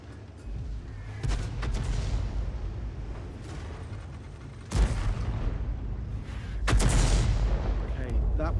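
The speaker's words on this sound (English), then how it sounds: "Now it looks like the enemy Arty is also firing at our tanks in that area." Artillery fire in World of Tanks from self-propelled guns such as the M12 and Hummel: deep booming shots land at intervals over a continuous rumbling battle bed, with a louder blast near the middle and another toward the end.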